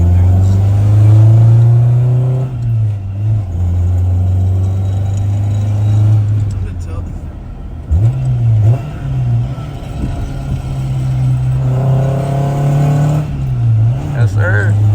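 Acura Integra engine revving and accelerating up close, its low drone steady for long stretches with brief dips and surges, while someone talks over it.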